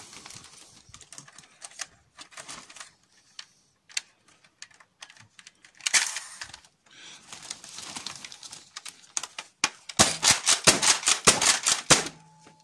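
A Nerf X-Shot Chaos Meteor blaster is reloaded by hand, producing scattered plastic clicks and rattles of balls being fed, then a quick rapid burst of clattering clicks near the end.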